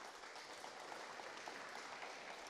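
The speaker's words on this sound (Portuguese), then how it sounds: "Salva de palmas." Applause from a workshop audience closing a session of thanks, a steady, even patter of many hands that stays faint and distant throughout with no voices over it.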